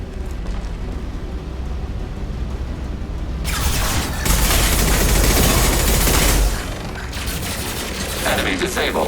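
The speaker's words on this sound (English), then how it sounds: "Receiving fire from Allied forces." Rapid gunfire crackles through a Mass Effect 2 firefight, with a dense burst of shots and booms swelling in the middle and sustained combat noise before and after.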